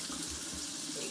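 Tap water runs steadily into a sink while food is being washed in a home kitchen, a soft continuous hiss and splash with no talking.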